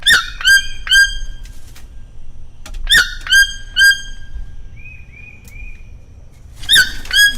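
Loud, harsh toucan squawks outdoors in short bursts, several in quick succession, then pauses and a few more raucous calls near the end.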